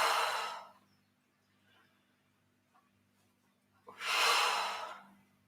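Two forceful breaths blown out hard during a live weights workout, each a loud, airy exhale lasting about a second, separated by a few seconds of near silence, close to the microphone.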